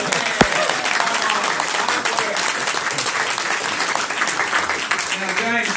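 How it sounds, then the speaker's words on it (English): Sustained applause from an audience at a community centre candidates debate, dense clapping filling the room for several seconds with a voice speaking over it. "they deserve a round of applause"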